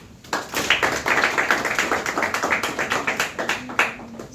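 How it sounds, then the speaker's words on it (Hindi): A class of schoolchildren clapping together in a classroom, a quick run of claps that starts abruptly and goes on for about four seconds, close and fairly loud with a slightly uneven rhythm. "यस, उसके लिए तालियां बजाओ."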